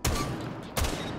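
Two booming buck shotgun blasts from Rainbow Six Siege, about three quarters of a second apart, each a sharp loud crack with a short decaying tail.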